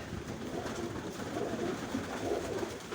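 Pigeons cooing at feeding time in a loft yard, several soft throaty coos overlapping steadily against a constant outdoor background, fairly close, with no talking.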